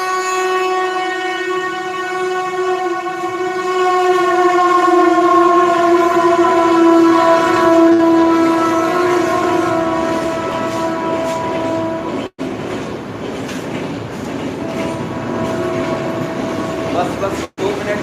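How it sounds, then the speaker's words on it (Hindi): A passing train sounds close by and loud, with a sustained horn-like harmonic tone and a steady rolling rumble that continues for the whole stretch, briefly cut twice near the end. "ट्रेन जा रहा है, ट्रेन को जाने दीजिए, बहुत डिस्टर्बेंस क्रिएट हो रहा है"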